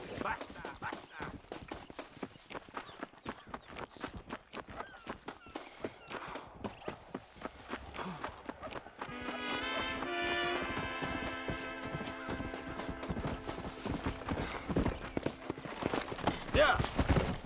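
A horse in Red Dead Redemption clip-clops along with a rapid, steady hoofbeat that stays close and loud. Midway a bright, sustained tone swells in, and someone speaks briefly over the hooves.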